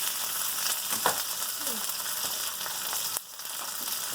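Salmon sizzles and crackles steadily in a hot pan, a loud continuous frying hiss with a brief stir or shift partway through and a momentary dip near the end.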